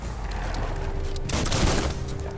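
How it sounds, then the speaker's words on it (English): Gunfire in the action game Biomutant, a dense burst of shots and booms overlapping into a loud, continuous fusillade that swells midway. "Bullets everywhere."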